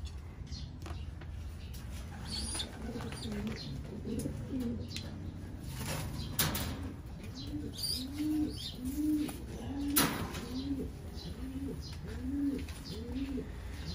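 Racing pigeons coo repeatedly in a rhythmic series of soft, low calls close by, with scattered chirps and light handling noise in the background, no talk over them.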